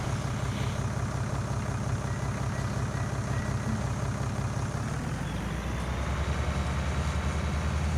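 Tractor engine in Farming Simulator 19, a steady low diesel drone idling evenly, then shifting pitch and rising in rumble partway through, continuous and close with no talking.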